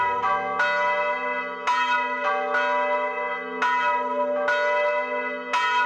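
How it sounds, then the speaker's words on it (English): A Paccard church bell rings out in slow, evenly spaced strikes, each bright metallic tone blooming and humming on as the next overlaps it, loud and close with nothing else heard. "this church is the first church where Paccard put the first bell in 1796 by our ancestor Antoine"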